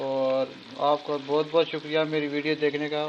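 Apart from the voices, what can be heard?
palak gosht frying, sizzling in pan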